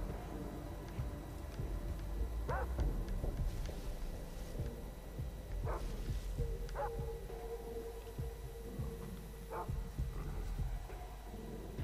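Dog barks and growls in the Far Cry 3 video game, a handful of short scattered barks at moderate distance over a steady low rumble of game ambience, with no talk.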